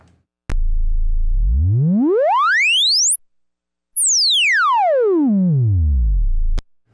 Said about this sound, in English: Here's what the sine wave sounds like.